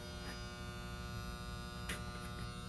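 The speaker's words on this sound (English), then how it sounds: "I put a cord on it and all and tried it, and it just hummed." A stalled air compressor motor that hums but will not start, giving a steady, close electrical hum with a buzzy edge that runs unbroken throughout.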